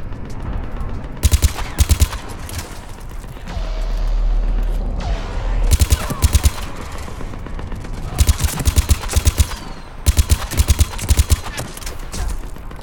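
Bursts of automatic gunfire in the sci-fi shooter game Mass Effect 3, several sharp clusters of rapid shots separated by pauses filled with battle rumble and a low explosive boom, loud and close.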